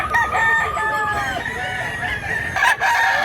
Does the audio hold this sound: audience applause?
no